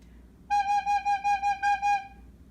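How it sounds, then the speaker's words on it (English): A recorder plays a clean, even rhythm of eight short notes on one pitch, close and clear against a quiet room. "If I were to play this on the recorder"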